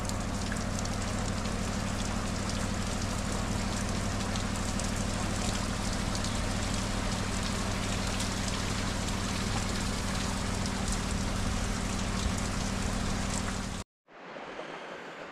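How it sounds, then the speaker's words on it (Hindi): Rain falls steadily at a mountain temple along the Madhyamaheshwar trek in Uttarakhand, a dense continuous hiss and patter with a low rumble, loud and unbroken before cutting off abruptly near the end. "बहुत ही सुंदर रहा और बारिश एकदम शुरू हो गई है।"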